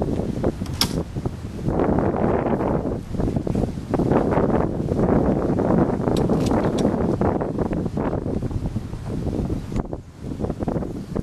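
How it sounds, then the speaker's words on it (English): Wind blows outdoors, buffeting the microphone as a continuous loud rumbling roar with gusty swells throughout and a brief dip near the end. No voices. "obviously we're outside in the wind"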